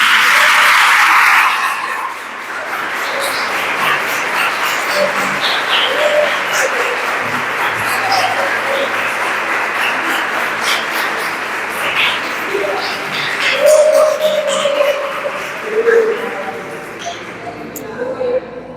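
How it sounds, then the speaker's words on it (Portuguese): A church congregation applauding, a broad, continuous wash of clapping at moderate level, with voices heard in the room throughout. "Vamos aplaudir ao Senhor."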